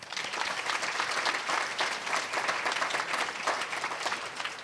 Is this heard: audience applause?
yes